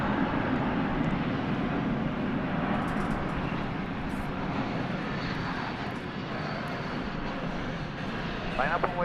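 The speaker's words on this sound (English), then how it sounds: "That was American Flight 777 coming in from Las Vegas." An American Airlines jet, the Las Vegas flight, lands at Dallas/Fort Worth airport. Its steady, loud, broadband engine roar fills the whole stretch without pause.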